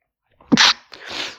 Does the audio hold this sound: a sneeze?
yes